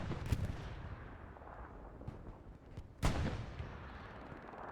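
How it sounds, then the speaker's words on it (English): Artillery and explosions in the World War II shooter Hell Let Loose: a loud nearby blast near the start, sharp distant bangs, then another heavy explosion, over a constant rumbling battlefield background. "Big explosion goes down there."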